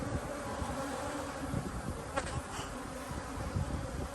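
Dense, steady buzzing of many honey bees close by at an opened hive with a honey super and queen excluder, a continuous droning hum with no talking.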